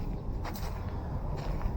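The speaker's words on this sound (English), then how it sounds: "you might also be able to hear my feet walking on the canal" Footsteps on the towpath beside the Griggstown canal land in a few soft, evenly spaced crunches. They are close and faint over a steady outdoor background hum.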